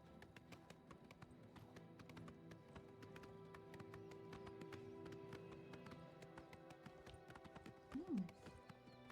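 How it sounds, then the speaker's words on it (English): A horse gallops in the video game Oblivion Remastered, its hooves making quick, steady clip-clopping beats. The rhythm carries on quietly for several seconds over a soft music bed, with a brief higher call near the end. "I can't go through the Imperial City on my horse"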